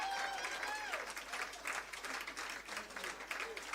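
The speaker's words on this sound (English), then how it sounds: "All the way until he takes his seat, keep clapping." An audience claps steadily at an event marking 30 years of rights, a faint, continuous patter of many hands with voices calling out over it.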